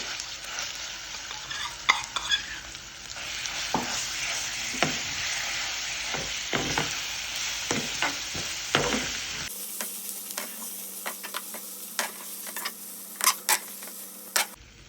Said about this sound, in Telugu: స్టవ్ ఆఫ్ చేసిన తర్వాత ఈ పచ్చడిని ఇందులో వేసుకుని కలుపుకుందాము